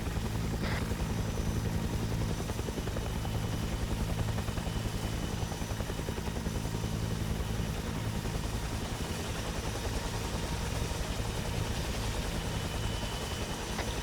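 Helicopter in the video game ArmA 3 flying and climbing above the tree line, a loud, steady rotor chop and engine roar filling the whole stretch without a break, no speech.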